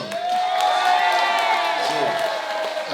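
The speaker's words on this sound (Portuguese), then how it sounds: "Então, damos um forte aplauso para a BIAIF." A carnival youth queen presentation crowd cheers and whoops loudly, with sustained voices and shouts blending into a continuous roar for a few seconds.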